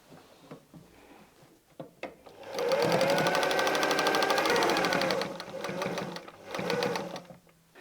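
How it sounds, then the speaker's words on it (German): A sewing machine runs a steady whirring stitch, joining both sides of a windmill patchwork block: a continuous close burst of several seconds, a brief slowdown, then another short run, with quiet handling sounds before. "Und wir nähen beide Seiten zueinander."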